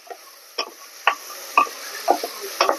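Spoon scraping and tapping in a pan while shallots, green chillies, onion and curry leaves are stirred, about six distinct clicks at a steady half-second rhythm over a faint sizzle.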